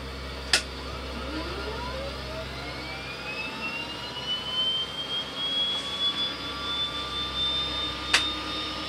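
A de Havilland Twin Otter turboprop engine restarting with its prop coming out of feather, a steady rising whine sweeping upward over a constant low drone, with two sharp clicks near the start and end.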